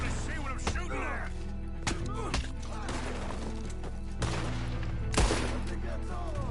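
Repeated gunfire in Red Dead Redemption 2, a string of sharp cracking shots at irregular intervals over a droning background of game music, with someone speaking intermittently between the shots.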